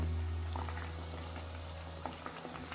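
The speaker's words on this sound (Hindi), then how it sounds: "इसको ब्राउन आलू ज़रा फ्राई हो जाए अच्छे से" Potatoes frying in hot oil in a pan for butterfly chicken, a dense continuous bubbling sizzle close up with a few faint clicks near the end, no talking.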